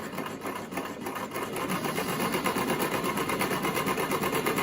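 A Brother XL 5600 sewing machine runs steadily while stitching zigzag, a continuous close mechanical whir with a rapid rhythmic needle chatter that holds even throughout, with no voices.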